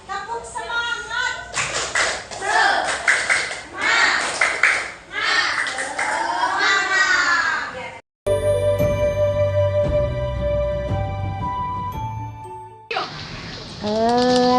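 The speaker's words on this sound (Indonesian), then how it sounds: "Tepuk semangat." Children in a Year 6 primary school classroom perform a rhythmic clapping chant, bursts of claps mixed with shouted voices, after which music with sharp taps plays, then voices return.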